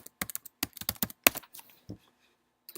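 Quick bursts of keystrokes clatter on a computer keyboard in uneven clusters, close and fairly quiet, then trail off into a couple of isolated taps.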